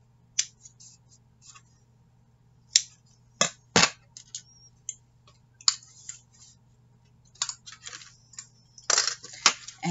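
Scissors trim a small square knot in thread while a journal is bound: a few quiet, sharp snips and clicks spaced irregularly, close up, over a faint steady hum.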